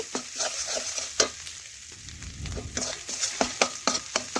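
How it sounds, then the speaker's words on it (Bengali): Spices and chili powder fry in hot oil, a soft steady sizzle broken by repeated sharp spatula scrapes and taps against the pan, close and fairly quiet with no talking. "এখন ভালোভাবে মশলার সাথে একটু ভেজে নিচ্ছি।"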